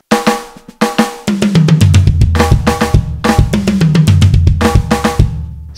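A Pearl e/MERGE electronic drum kit on a dry ambience setting plays a busy groove of kicks, snares and cymbal hits, dry and punchy, with no voices.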